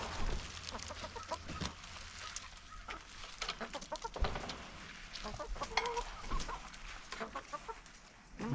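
Chickens clucking on a farm: soft, scattered clucks and fowl chatter at moderate distance under a steady background hiss, with a few sharper knocks and rustles.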